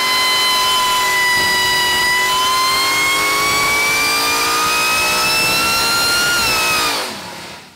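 Supercharged 1500 HP small-block Ford Clevor V8 with a Harrop TVS2650 supercharger revs hard on a dyno, a loud steady roar with pitch climbing slowly and evenly for about seven seconds before cutting off abruptly.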